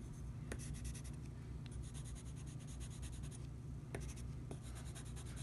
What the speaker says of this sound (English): I get this like big pencil and put some like rough shading in